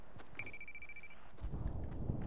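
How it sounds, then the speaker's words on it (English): A Fortnite treasure chest chimes with a thin, steady high tone lasting under a second, followed by soft rustling and shuffling footsteps close by. "Oh, I hear a chest."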